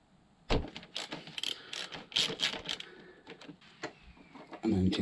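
Tool work on the rear brake caliper pin of a Kawasaki Z800 motorcycle: a quick run of close metallic clicks and ratcheting ticks, several short bursts over a few seconds against a quiet background.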